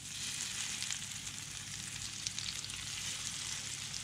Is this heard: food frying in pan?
yes